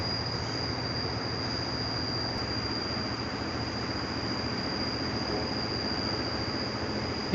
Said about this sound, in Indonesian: Itu suara gemuruh air mungkin atas kawan,